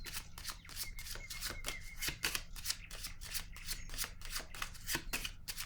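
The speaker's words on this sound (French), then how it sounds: "Je vais déposer une carte sur lui par curiosité." Tarot cards shuffled and set down on a table in a steady run of close, crisp papery flicks and slaps, with no voice.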